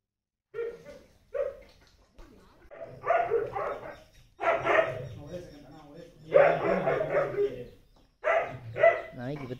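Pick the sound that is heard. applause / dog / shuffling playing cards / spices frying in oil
dog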